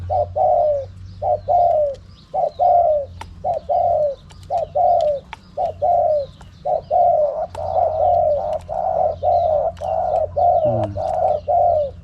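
Spotted dove cooing repeatedly in a steady rhythm of short, mid-pitched coos, loud and close, with a low steady hum underneath.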